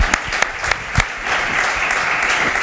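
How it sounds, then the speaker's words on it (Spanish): A short burst of applause from a small audience at an interview event, with scattered claps at first that thicken into steady clapping. "Un aplauso para él."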